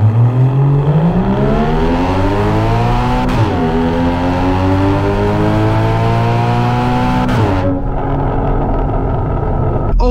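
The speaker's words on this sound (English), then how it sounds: "All right, let's do another launch right here." A 2016 Porsche Cayman's mid-mounted engine revs hard during a launch, loud and close, its pitch climbing steadily with brief dips at two gear shifts before a final sharp drop.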